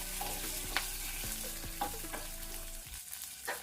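Dried red chilies, cumin and curry leaves sizzle and crackle in hot oil for a Telugu coconut chutney tempering, with spoon stirring scrapes and clinks sounding close and steady, no talking.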